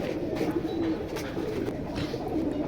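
Caged pigeons coo steadily at a pigeon market, a soft low murmur of overlapping calls with light crowd ambience in the background.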